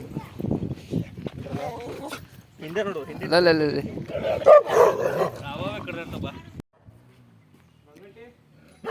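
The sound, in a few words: two dogs barking at a house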